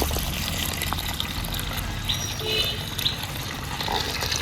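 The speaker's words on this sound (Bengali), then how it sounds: "এই যে মাটির মধ্যে জল দিচ্ছে" Water poured onto soil makes a continuous gushing, splashing rush at close range. The flow stays even over a low background rumble, with no speech.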